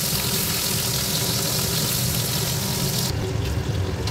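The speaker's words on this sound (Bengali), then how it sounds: "যে তেলটা গরম হয়ে গেছে এবার মাছগুলো এর মধ্যে ঢেলে দিই।" Rohu fish pieces go into hot rice bran oil in a pan and set off a loud, close, steady sizzle that holds throughout and turns slightly duller near the end, with no talking.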